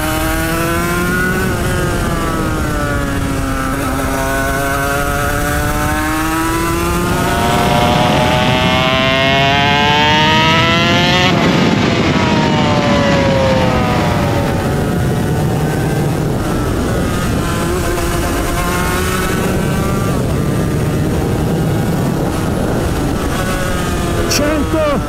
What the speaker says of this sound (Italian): 62 cavalli, motore bicilindrico, due tempi